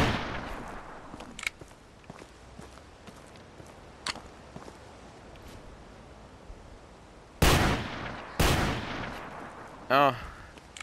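Several loud rifle gunshots from a hunting rifle in the Hunting Simulator video game, two sharp reports close together near the end followed by a shorter burst, over faint outdoor ambience and scattered small clicks.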